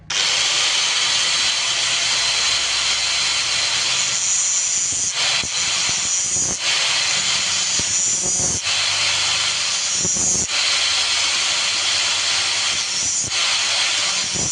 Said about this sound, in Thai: ดอกสว่านสามดอก จะเจาะขาดไหม